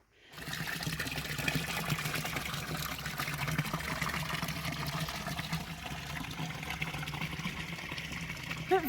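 Hot thermal water runs and trickles steadily in a desert setting, a continuous close-up flowing wash with no pauses, and no one speaking over it.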